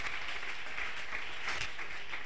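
Congregation applauding during an evening church worship service, a steady dense wash of many hands clapping together for a couple of seconds without a break.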